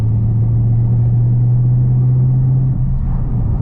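A 2019 Dodge Scat Pack with a mid muffler delete rumbles at low cruising speed with a deep, steady exhaust drone that holds, then eases slightly near the end.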